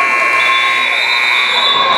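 A loud, steady basketball game buzzer blares continuously at the end of a high school game over crowd noise in the gym.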